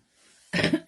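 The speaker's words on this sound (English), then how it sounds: "I've still got that horrible chesty cough" A single harsh, chesty cough bursts out close by, followed by a shorter second cough, after a moment of quiet.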